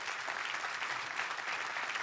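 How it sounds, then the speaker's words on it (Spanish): A church congregation applauds, producing a steady, dense wash of many hands clapping, fairly faint and continuous throughout. "Denle un fuerte aplauso a Dios por eso."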